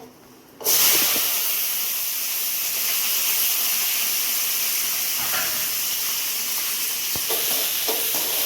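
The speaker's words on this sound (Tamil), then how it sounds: "கருவேப்பிலை பூண்டு இந்த மூணையும் சேர்த்து நல்லா வதக்கிக்கலாங்க" Steady loud sizzling and hissing of onions, curry leaves and garlic frying in a hot pan, starting abruptly and continuing with faint stirring clinks.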